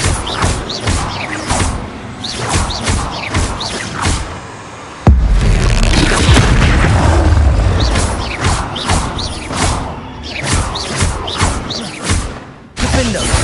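Confringo and Bombarda spell blasts in Hogwarts Legacy combat, loud booming and crackling impacts layered over dense game noise and music, with a sustained roaring burst midway and voices speaking over the action.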